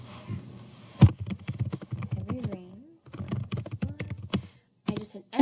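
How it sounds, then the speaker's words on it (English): Keys clack on a computer keyboard in close, quick, irregular bursts while someone talks over the tapping. "All I have to do is click to type"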